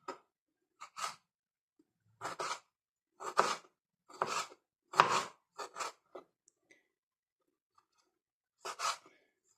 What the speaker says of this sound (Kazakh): Бұны да осылай ұсақтап тураймыз.